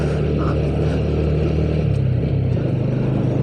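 A small manual-gear motorcycle climbs a steep uphill road, its engine droning loud and close with a steady, slowly rising pitch as it accelerates, heard alone throughout.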